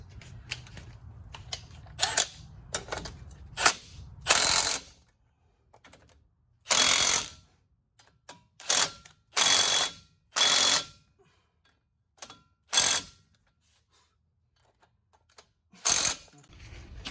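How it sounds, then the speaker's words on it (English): A ratchet tightens wheel hub bolts on a 2009 Chevy 4x4 truck with a 4.8 engine, giving close, loud bursts of rapid clicking separated by pauses, with some faint handling noise in between. "Let's go around and tighten these 4 or 3 bolts."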